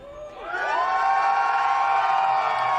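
A live esports crowd at a Valorant VCT Americas Kickoff match cheers and whoops as a vote by noise, swelling after half a second into a loud, sustained roar with high shouts that holds to the end.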